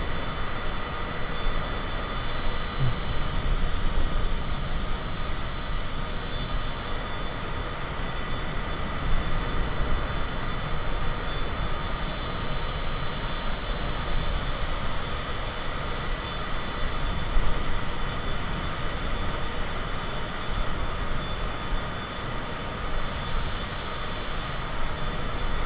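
A Cessna's engine drones steadily in Microsoft Flight Simulator, a constant dense hum with no pauses throughout.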